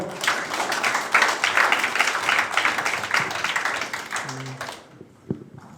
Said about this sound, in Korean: 힘찬 박수로 보내드리겠습니다